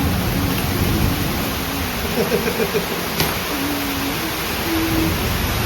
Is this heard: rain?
yes